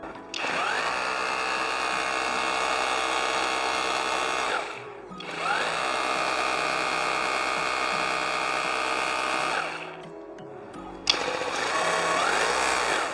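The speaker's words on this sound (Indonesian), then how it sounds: "Untuk mode yang ketiga ini, mode hammer, dia itu ujungnya hanya memalu," Cordless rotary hammer running in hammer-only mode with no bit fitted, a loud, close, rapid buzzing rattle in two long bursts with a brief stop between, then a third burst starting.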